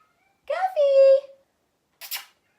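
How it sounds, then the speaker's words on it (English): A pet cat that rarely meows lets out one loud, drawn-out indoor meow, close to the microphone, followed after a short pause by a brief faint noise. "my cat's meowing, and for a cat that does not meow, he's meowing quite loudly"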